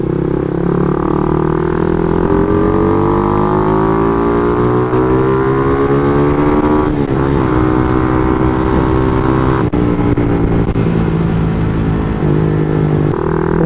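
A Suzuki Raider R150 FI motorcycle engine runs hard on a dyno during ECU tuning, its loud, steady revs climbing in pitch, briefly dipping and then rising again, close by without any talk.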